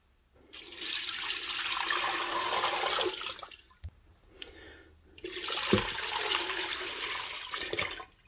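Tap water runs into a pot in a kitchen, a loud, steady rushing stream for about three seconds, a brief pause with a clunk, then the flow resumes for nearly three more seconds.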